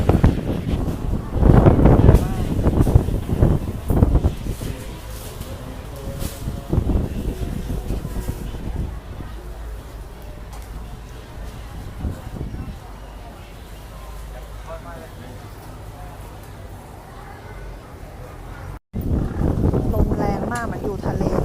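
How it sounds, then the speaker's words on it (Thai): Gusty wind sweeps across a riverside temple ground near a ferry crossing as a summer storm rolls in, a steady broadband rush that follows a woman's speech at the start and continues largely alone. "เหมือนอยู่ทะเลเลยค่ะจะได้ยินแต่เสียงลมนะคะ"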